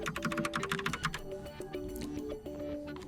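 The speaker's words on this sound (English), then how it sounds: "I can click on these emojis to type them in" Rapid, crisp keystrokes clatter on a Logitech Pop Keys mechanical keyboard, several quick bursts of clicks in a quiet room followed by sparser taps, with no talking.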